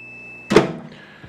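A microwave oven door swings open with a sudden thunk and mechanical click of its door switch, a single near, fairly loud burst that fades into a low hum, with no talking.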